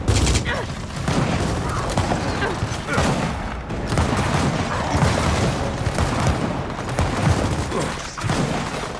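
Dense, continuous gunfire from the Gears of War 4 video game, with bursts, booms and thuds packed across the whole stretch at steady loudness and no clear gaps.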